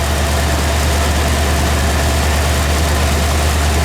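A junkyard truck engine idles steadily after sitting unused for nearly a week in cold weather, a loud, close, continuous low rumble with even vibration and no break.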